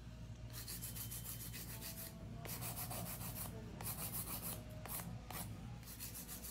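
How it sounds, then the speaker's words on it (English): Nail file rasped by hand across a set of nails, steady repeated rubbing strokes in bursts with short pauses, close and fairly quiet over a low background hum. "I try to show some hand filing technique in case your e-file breaks"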